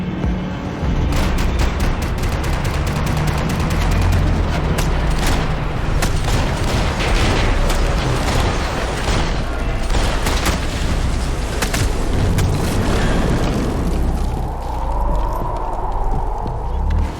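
Dense, continuous gunfire and booming impacts from a shootout in the video game Max Payne 3, loud and sustained throughout with barely a pause, a thinner noisy tail near the end.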